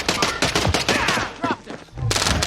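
Rapid bursts of gunfire in the shooter game Warzone, loud and dense, with sharp repeated shots in clusters and a brief lull before the firing resumes.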